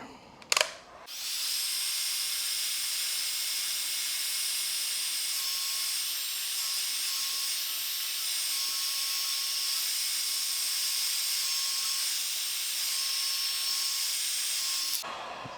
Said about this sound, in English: I don't want to burn myself because this heat gun gets super hot.